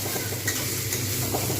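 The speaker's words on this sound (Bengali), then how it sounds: "এটা ভালো করে এর সঙ্গে কষাতে থাকবো" Dry spice powders, including turmeric, are stirred in a pan over lowered heat for a Bengali cauliflower and egg curry, giving a soft steady sizzle with faint scraping under a constant low hum.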